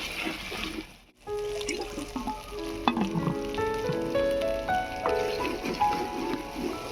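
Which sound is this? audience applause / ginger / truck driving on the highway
ginger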